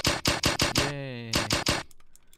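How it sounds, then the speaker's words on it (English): Gunfire from the video game Aeroboticar: Uprising comes as a rapid burst of loud, close, evenly spaced shots, pauses while a brief tone plays, then resumes for three more shots before cutting out. "The muzzle flash should work now."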